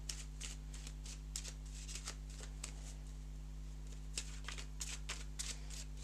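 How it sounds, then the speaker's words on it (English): A deck of cards for the board game Realm of the Empress is shuffled by hand in a steady series of quick riffles and snaps over a low electrical hum, close and fairly quiet. "The player shuffles their own cards up"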